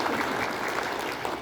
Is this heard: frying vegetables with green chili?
no